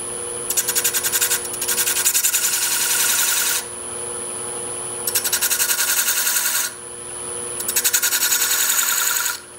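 A point tool scores a line around a turned wooden castle box spinning on a lathe. Three long, fairly loud scraping bursts stand over a steady motor hum, with short pauses between them.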